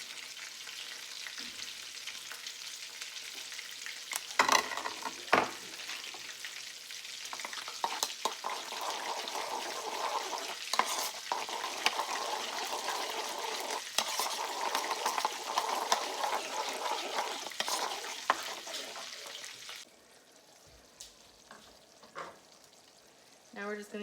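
Fried chicken being stirred and tossed in hot honey sauce, with a steady sticky sizzle and wet scraping turns, occasional sharp clinks of utensil on pan, quieter after a pause near the end.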